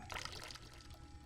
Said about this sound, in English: Sloshing